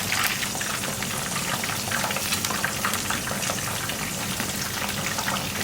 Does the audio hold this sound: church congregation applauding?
no